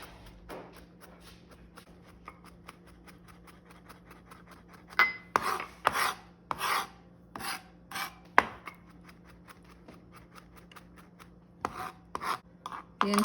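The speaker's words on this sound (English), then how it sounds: "I finished mincing my 5 cloves of garlic." Knife mincing five garlic cloves on a cutting board, with quiet rapid rocking chops at first and then louder clustered bursts of chopping near the mic, with short pauses between runs.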